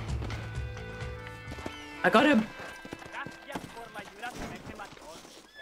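Horse hooves clip-clop in the Western video game Red Dead Redemption, with a short burst of hoofbeats close by amid game sounds, while someone talks over it.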